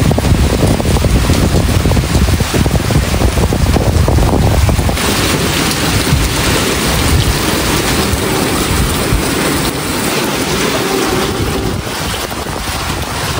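Heavy rain pours steadily with strong wind, a loud, dense, continuous roar outdoors with no voices.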